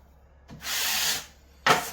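A broad drywall blade skims runny joint compound over a taped seam in two scraping strokes, a long smooth swipe and then a shorter, sharper one, loud and close with no talk.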